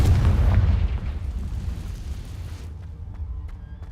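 A fiery Confringo spell explosion in the Hogwarts Legacy video game, a loud deep boom that rolls off into a fading rumble, with a few faint crackles afterward, no talking.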